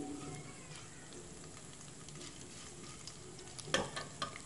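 Mustard seeds, urad dal, jeera and chana dal fry in hot oil for a peanut chutney tempering, giving a soft, steady sizzle with faint crackles and a couple of sharper pops near the end.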